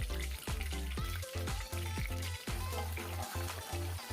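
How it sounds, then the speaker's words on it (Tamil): Green chillies fry in hot ghee and oil for a mutton biryani, giving a steady close sizzle and crackle with repeated scraping or stirring knocks over it. "இது நல்லா நெய்லையும் எண்ணெயிலையும் ஒரு செகண்ட் நல்லா பொரிஞ்சு வரணும்"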